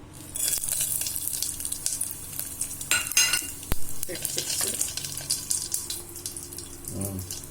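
Bay leaf, anise and fennel sizzling in hot ghee, a crackling fry with scraping stirs and a few sharp clinks, moderately close, ending with a brief low rumble.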